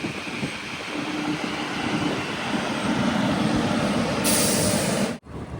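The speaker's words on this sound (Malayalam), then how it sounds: "ട്രെയിൻ ഇതാ യശ്വന്ത്പൂർ റെയിൽവേ സ്റ്റേഷനിലേക്ക് എത്തുകയാണ്" Express train arriving at Yesvantpur railway station on the Chikkamagaluru to Bengaluru run, a loud sustained rumble and roar of wheels and cars rolling close by, ending in an abrupt cutoff.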